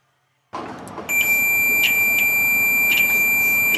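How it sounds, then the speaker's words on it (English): A multimeter set to continuity gives a steady, loud, high-pitched beep while testing a GE electric dryer thermostat, sounding continuously after a short click and rustle at the start. "In this case, it's a beep, so it's good"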